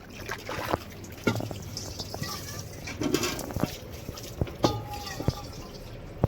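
Water from a household supply tap trickles and drips in uneven splashes, close and fairly quiet, with a voice speaking in between and a bird calling faintly.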